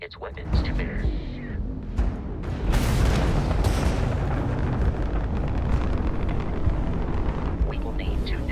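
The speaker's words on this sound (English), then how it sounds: "that's a Crimson Fleet ship bringing its weapons to bear" Booming explosive weapons fire from a hostile Crimson Fleet pirate ship during space combat in Starfield, a loud continuous rumble with sharp blasts building from about three seconds onward.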